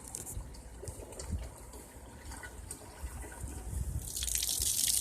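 Water overspilling from an unconnected Insinkerator compost drain outdoors, with a soft continuous splashing trickle that grows into a louder hissing gush near the end, close by with no talk.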